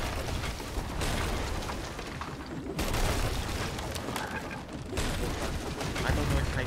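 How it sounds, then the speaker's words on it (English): Cannon fire from three galleons and a fort in the Sea of Thieves video game, a dense, continuous rumble of booming blasts and crashing impacts with no pause. "Three galleons and the fort all shooting."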